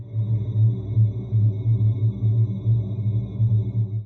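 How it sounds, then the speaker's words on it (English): Monaural beats play as a loud low tone that swells and fades in a steady, repetitive rhythm, about twice per second, with no other sound. "Monaural beats. These are repetitive, almost percussive-like beats delivered to one ear that sound kind of like this."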